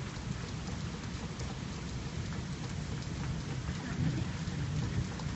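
A thunderstorm near Montferrier-sur-Lez in southern France, with steady heavy rain pouring down and deep rolling thunder rumbling underneath, continuous and close throughout, with no voices.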